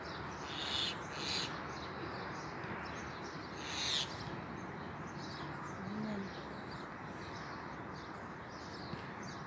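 A low owl hoot sounds once amid a dense night chorus of chirping insects, with a few scattered higher calls, at a rugby ground in Dubai.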